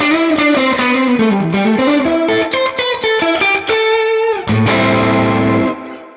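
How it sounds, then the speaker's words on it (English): Loud electric guitar through a screamer distortion effect on a Valeton GP-200 multi-effects unit, single notes bending and sliding, then a sustained distorted chord ringing out and fading. "Let's put a distortion to it. Let me add a screamer."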